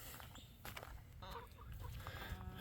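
Chickens in a homestead pen beside rabbits cluck and squawk in short, irregular calls, fairly faint, over low rustling background noise without speech.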